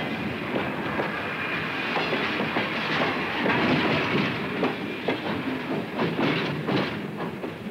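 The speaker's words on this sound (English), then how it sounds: "The switching engines are something like tugboats." A switching engine pushes and pulls freight cars through a rail yard, giving a steady rumbling roll with repeated clickety-clack wheel knocks and faint hiss throughout.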